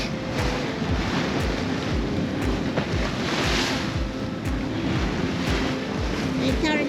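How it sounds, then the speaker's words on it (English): A sailboat under full main and a large genoa heads west across open ocean, with steady wind rush and waves slapping the hull throughout, loud and continuous with no talk. "We're currently sailing with our big headsail, our big Genoa, full main."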